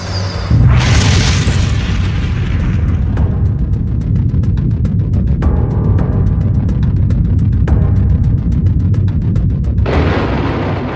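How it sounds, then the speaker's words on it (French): A deep, heavy boom of an explosion on the surface of Jupiter erupts and rumbles on, with a rolling low roar and rhythmic crackling pulses, loud and sustained, with a burst of hiss near the end. "Cette explosion a été très violente"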